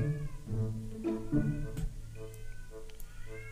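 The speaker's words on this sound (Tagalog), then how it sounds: "Maingay yung pusa ko sa labas eh." Several loud, drawn-out cat meows in a row, harmonic and wavering, close by and outdoors, with no talking.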